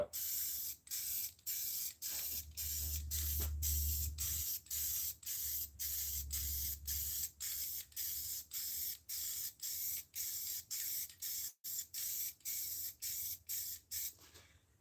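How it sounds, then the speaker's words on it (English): Cheap aerosol can spraying white paint over black on a tire cover, heard as a steady run of short, close hissing bursts separated by brief pauses, with a low rumble under the first few seconds. "So we buy these cheapo cans that ain't nothing like the spray-on product."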